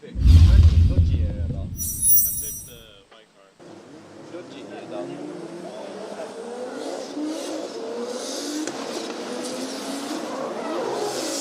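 Drift cars roar and squeal around Sugo circuit in Japan during Formula Drift, engines revving loud and close at first, then a steady drone of tires and motors continues.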